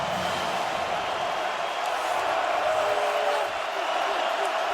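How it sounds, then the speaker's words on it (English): USC Trojans crowd at a football stadium in Las Vegas during the 2022 Pac-12 Championship, a dense continuous roar of cheering and noise filling the whole stretch, loud and sustained. "the Trojans in the house are making some noise"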